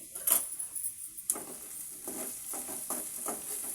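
A spoon stirs potato fry coated with chili powder in a pan, producing soft, irregular scraping taps and a faint sizzle, quiet and close.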